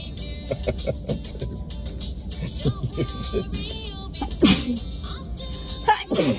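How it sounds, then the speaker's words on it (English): A young woman sneezes during a Covid nasal swab test, with a couple of sharp, loud sneezes near the end after quieter sniffling and background noise. "how do I stop sneezing?"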